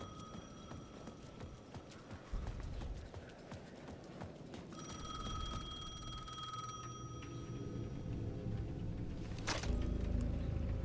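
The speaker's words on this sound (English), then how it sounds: "The payphone at the edge of the plaza was ringing again." A payphone rings at the edge of a plaza in the video game Alan Wake 2, its tonal bell repeating under eerie ambience with low clopping rumble, growing more prominent partway through.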